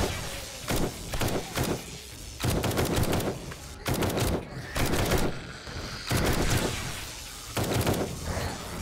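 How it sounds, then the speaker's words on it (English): Repeated bursts of gunfire in the video game Wasted, clustered volleys spaced about a second apart, loud and close, with faint voices in the background. "it's burst fire without the full auto"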